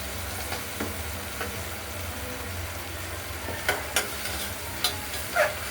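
Moong dal being stirred as it fries lightly with salt in a pressure cooker, giving a low steady sizzle with scraping stirs and several sharper clinks of the spoon toward the end, with no voices.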